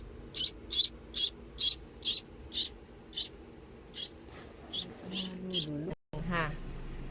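A rescued baby bird gives a steady series of short, high chirping calls, about a dozen evenly spaced peeps, with faint background talk and a brief dropout near the end.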